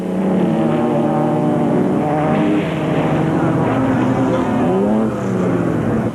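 Race cars at the Carnival City 400 in 2001, engines droning and whining loudly as they pass, a continuous layered roar of several cars with shifting pitch, announcer talk faintly underneath.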